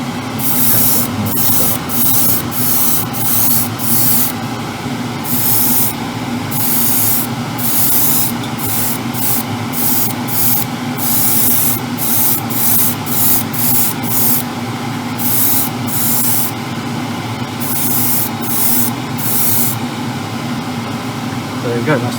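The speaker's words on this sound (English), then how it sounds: "this feels like quite thin paint, so I've turned the pressure down on the airbrush" Airbrush spraying thin paint at lowered compressor pressure onto model Ferrari 812 Superfast bodywork, a steady hiss running throughout with repeated short bursts as the trigger is worked, close and fairly loud.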